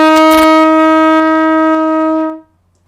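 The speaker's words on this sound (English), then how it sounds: "the F is just a little bit higher on the staff" A trumpet sustains a single clear F fingered with the first valve, a steady bright tone with rich harmonics held for about two and a half seconds before stopping cleanly, played alone and up close.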